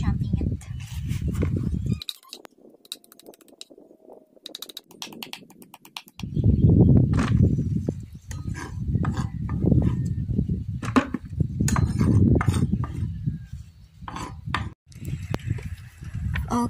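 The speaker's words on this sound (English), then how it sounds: "What I am going to do is to chop it into a small pieces so I can feed it to our tilapias" Madre de Agua leaves chopped into small pieces for tilapia feed, a rapid series of close, dull knife chops in bursts with a brief pause partway through.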